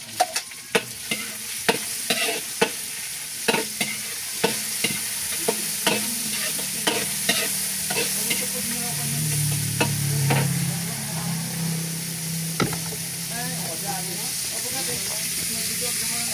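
Pakbet vegetable ingredients sautéing in a pan: a steady sizzle and hiss with repeated sharp scrapes and taps of a utensil stirring, loud and close, building to a stronger fry midway.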